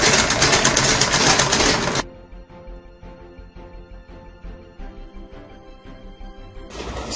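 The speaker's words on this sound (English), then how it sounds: "You lock the stitch at the beginning, then you continue sewing." A sewing machine stitches a seam on an A-shape skirt. Rapid close mechanical needle chatter runs steadily under a loud hiss for about two seconds, then continues alone as a clear rhythmic clatter, and the hiss returns at the end.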